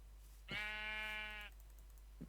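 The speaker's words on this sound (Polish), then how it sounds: "Owca." A single clear Minecraft sheep bleat, sustained and harmonic, lasting about a second against a quiet background with a low steady hum.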